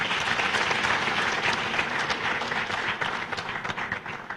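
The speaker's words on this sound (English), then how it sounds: "Can I ask that if we decide to give an applause, we give a proper one?" A conference audience at a state-of-the-nation event in Uganda claps in sustained, dense applause that fades slightly toward the end.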